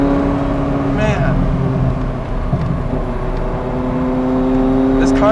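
Ferrari F40 engine pulling hard on a mountain road, a loud steady droning rumble heard from inside the car, with a voice speaking over it.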